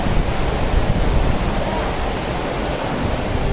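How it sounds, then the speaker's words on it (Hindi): The Yamuna river runs in a steady, loud rush of water close by on the Yamunotri trek in Uttarakhand, a broad continuous roar with no pauses and no voices. "यहाँ पे यमुना बह रही है और यहाँ से जा रही है"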